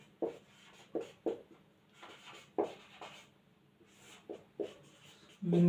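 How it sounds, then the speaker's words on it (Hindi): Someone writing on a board during a geography lesson makes short scratchy strokes in separate bursts, quiet and close, with pauses between words. "अब क्या लिखेंगे, अब लिखेंगे"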